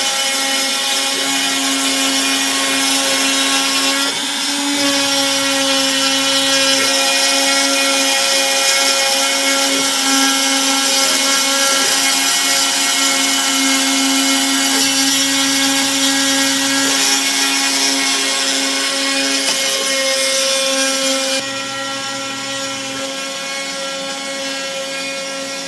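A Probotix X90 CNC router cuts a pocket in steady passes, giving a loud, continuous whine with shifting tones as the spindle changes direction, and a small drop in level near the end.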